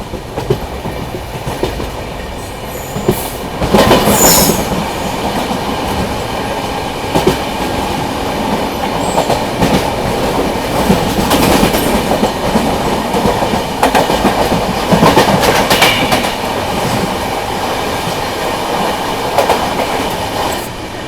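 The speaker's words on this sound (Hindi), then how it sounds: "अपनी पुणे कन्याकुमारी एक्सप्रेस निकल चुकी है पुणे जंक्शन से" Pune–Kanyakumari Express rolling along after departing Pune Junction: a steady, loud rumble of the carriage with rhythmic clickety-clack of wheels over rail joints and a brief high squeal near the start, continuous throughout with no talking.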